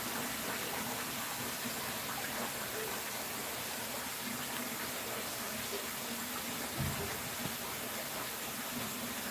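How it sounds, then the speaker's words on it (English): Cold tap water runs steadily over cooked rice for jollof, making a continuous close gushing wash. The level stays even throughout, with one faint thud partway through. "I'm just letting cold running water just go on top"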